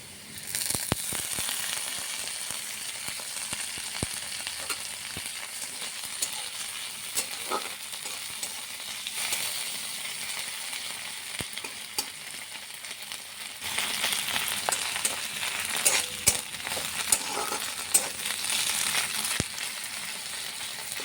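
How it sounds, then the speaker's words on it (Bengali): Dried fish fries in hot oil alongside already-browned onion and garlic, giving a continuous sizzle and crackle that swells louder in the second half. A spoon scrapes and stirs against the pan at intervals. No voices are heard. "এখন শুটকি মাছটা দিয়ে দেব।"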